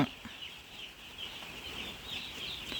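Day-old chicks in a brooder cheep and peep in a soft, continuous high chorus, faint and close, with no talk over it.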